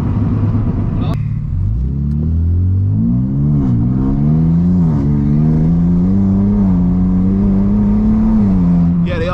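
A BMW M3 engine pulls hard through the gears from inside the car, a loud droning note rising in pitch, dropping briefly at each shift, then climbing again, with a voice talking over it.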